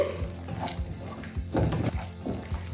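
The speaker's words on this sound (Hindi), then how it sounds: "कवर हटा लेते हैं और मसाले को फिर से चलाएंगे" A spoon stirs spinach masala in a pan for palak paneer, giving a few close scraping strokes over a soft sizzle, loud and up close with no talking.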